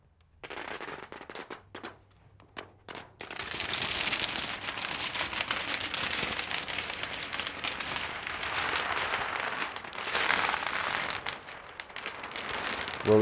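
Protective plastic film is peeled off a Hisense U9N TV, a close, sustained crackling and crinkling rip that runs for several seconds after a few short tugs.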